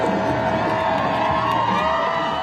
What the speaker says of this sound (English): The roads lined with crowds cheering their return